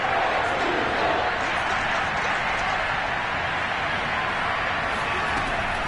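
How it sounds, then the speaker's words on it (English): An American football stadium crowd roars ahead of a big third down, a dense and continuous wall of cheering with a commentator's voice running over it. "the crowd getting into it as we come up on a big third down"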